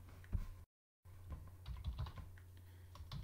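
Keys clatter on a computer keyboard while a command and password are entered in a Linux terminal on Ubuntu, a quick uneven run of close, crisp taps with one brief gap of silence partway through.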